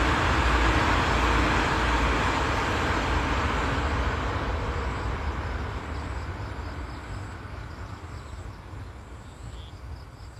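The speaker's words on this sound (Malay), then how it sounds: "Nampak kereta api belakang?" A train passing somewhere behind an outdoor spot, a broad rumbling roar that starts loud and steadily fades over about ten seconds, with no talk over it.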